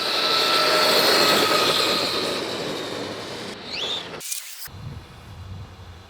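A loud, high-pitched electric motor whine from a Losi LMT 2.0 Grave Digger RC monster truck on a 3S speed run racing past, fading slightly, then cutting out abruptly before quieter rumbling resumes.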